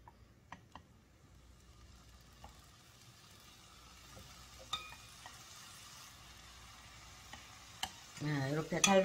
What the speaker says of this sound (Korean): 이렇게 달달달달 볶아서 이제 이렇게 보시면 북어가 이렇게 오그라들어요